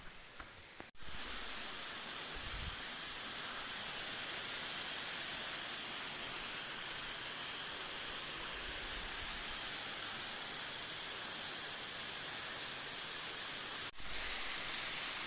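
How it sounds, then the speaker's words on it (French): Steady, broadband rushing of water fills the whole stretch, a constant roar of the nearby Faillitoux waterfall in Cantal, with faint low thumps near the start and end. "Le bruit de l'eau, la cascade est proche."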